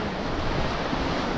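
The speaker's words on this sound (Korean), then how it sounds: "파도 소리 보세요." Ocean surf on the Korean west coast at Seocheon rushes in a continuous, loud roar of breaking waves, with wind blowing across the microphone.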